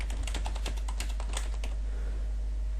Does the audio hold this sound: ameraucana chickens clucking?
no